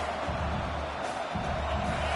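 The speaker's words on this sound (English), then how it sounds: "listen to this crowd noise. This stadium is vibrating" A roaring stadium crowd at a football game forms a loud, continuous wall of noise, swelling and dipping slightly, with some voices mixed into the din.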